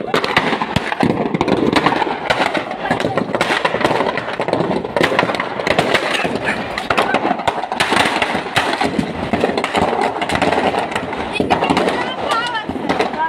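Firecrackers burst in rapid, irregular volleys of loud cracks and pops during a Dussehra Ravan effigy burning at Brahman Majra, Sirhind, with people talking amid the noise.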